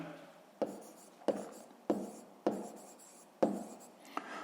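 A pen writing math homework in a notebook makes a steady run of short scratchy strokes, about one every half second, close and distinct with no talking.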